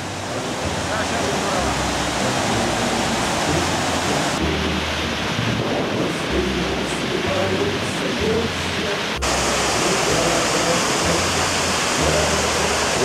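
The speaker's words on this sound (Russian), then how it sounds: "Толмачевские водопады гудят." The Tolmachev waterfalls in Kamchatka roar with a dense, continuous rush of falling water, loud and unbroken throughout, mixed with wind buffeting the microphone.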